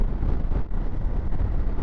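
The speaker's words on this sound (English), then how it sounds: "It's so windy." Strong, cold wind buffets the microphone of a rider on a Honda Africa Twin motorcycle crossing the moors, a dense, low, fluttering rumble that briefly dips before surging again, with no voices.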